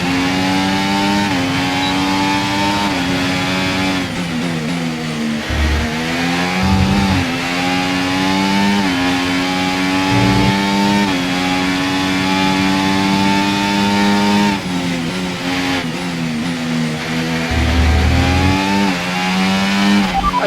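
Formula One race car engine in the F1 video game, a loud sustained high-pitched whine rising and dropping through gear changes as the car accelerates up to speed, with no voices.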